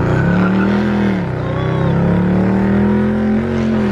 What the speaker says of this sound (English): the only thing good about this ride is the fact that I can hear the sound of my car